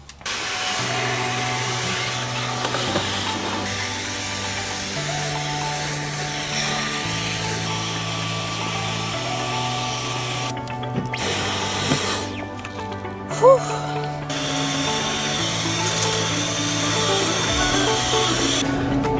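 A vacuum cleaner drones steadily while cleaning a car's carpet, its motor hum shifting pitch in steps as the nozzle moves, near and continuous with brief pauses and no talk.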